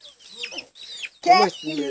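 Chickens clucking close by, several short squawking calls with brief gaps between them and a louder, harsher cluck near the end.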